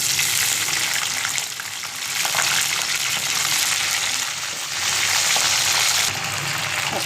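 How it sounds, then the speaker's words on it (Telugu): Green chillies frying in hot oil for a okra roti chutney, a loud, steady, close sizzle with bubbling crackle that carries on without pause. "నూనె కాగింది. పచ్చిమిర్చి వేసుకున్నాం."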